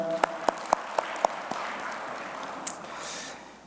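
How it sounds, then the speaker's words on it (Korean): A congregation before a worship service gives a round of encouraging applause, opening with five sharp, evenly spaced claps that ring briefly, followed by a softer, scattered spread of clapping that gradually fades. "격려의 박수 한번 쳐주시면 감사하겠습니다"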